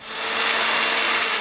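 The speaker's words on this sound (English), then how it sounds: "if you have an immersion blender, and we're going to puree this into a nice creamy soup" An immersion blender purees butternut squash soup, a loud, steady whirring drone close by that ramps up quickly and holds constant.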